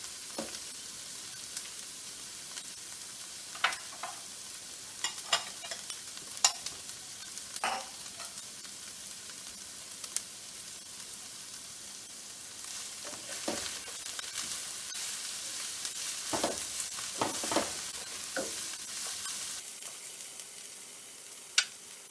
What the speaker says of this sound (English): So I have a high flame, and we need to stir frequently so it's not going to stick to the bottom.